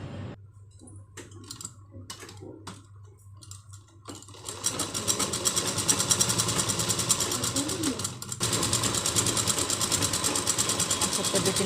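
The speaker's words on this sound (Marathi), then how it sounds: "तर चला मग आपण शिलाई मारूया" A sewing machine stitches the lining of a blouse, a steady fast mechanical rattle running continuously for most of the clip after a few scattered clicks and handling noises at the start.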